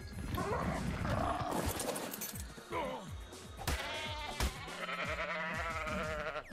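Sheep bleat repeatedly in the game ARK Survival Evolved, several wavering calls that overlap someone talking throughout, with game sounds mixed in.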